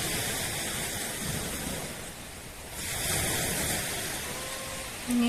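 Sea waves roll and wash steadily onto an empty beach, a continuous broadband surf roar with slow swells in loudness and some wind noise, with no voices.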